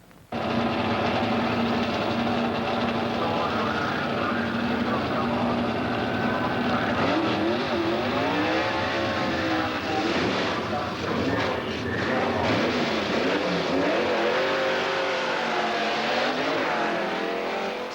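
A Saab 99 Turbo and rival high-performance cars drag race over a standing quarter mile at Mantorp Park in Sweden, with loud sustained engine roar and rising, revving pitch sweeps as the cars accelerate hard.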